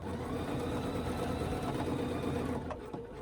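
A sewing machine stitches a quilt block guided by a ruler, a fast, even mechanical whir running continuously at close range before easing off near the end.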